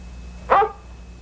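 A single short, sharp bark from a dog (Lassie in a film), close and clear over a faint steady background hum.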